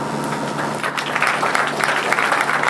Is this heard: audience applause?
yes